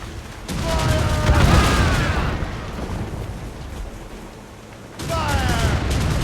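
Broadside cannon fire from sailing warships in an Assassin's Creed Rogue naval battle: two rumbling volleys of overlapping booms, the first rolling on for over a second, the second starting near the end, each joined by a shouted voice over the din.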